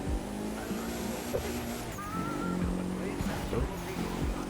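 A Mitsubishi Eclipse GSX race car driving in The Crew 2, its engine droning steadily with rising and falling revs, tire squeals and skids throughout, at moderate loudness with no speech.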